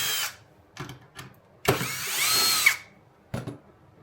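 A power driver whines in short bursts while backing out the two footpad screws on a Floatwheel Atom electric board, with one longer run in the middle and brief clicks between.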